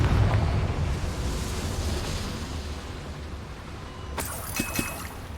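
A Confringo fire spell explodes in Hogwarts Legacy with a heavy opening boom that rolls into a sustained low rumble, then a few sharp cracks and clatters near the end, with no voices.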